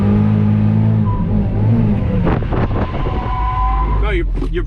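A drift car's engine revs hard under throttle during street drifting, with a loud, sustained drone whose pitch climbs and wavers. Wind buffets the microphone, and people talk over it.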